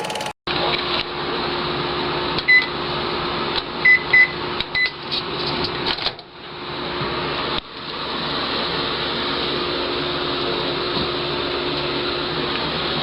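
Microwave oven running with a steady hum and whir, with a few short beeps from button presses early on, a brief pause, then the drone resumes.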